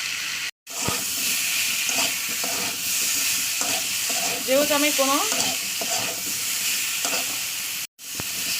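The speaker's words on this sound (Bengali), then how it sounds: "এটা তেলের সঙ্গে ভালো করে মশলা ভাজা করবো" Spices with turmeric and salt fry in a small amount of oil in a home kitchen, giving a steady close sizzle with repeated stirring scrapes, while someone speaks briefly over it.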